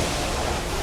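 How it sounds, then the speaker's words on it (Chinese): The huge indoor waterfall at Jewel Changi Airport gives off a short burst of dense, steady rushing roar, loud and unbroken. "这个瀑布啊，从天而降"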